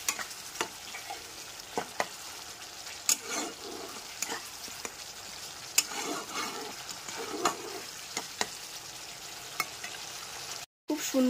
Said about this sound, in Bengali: 3 থেকে 4 মিনিট ধরে গ্যাসের ফ্লেমটা মিডিয়ামে রেখে ভালো করে মশলাটাকে কষিয়ে নিতে হবে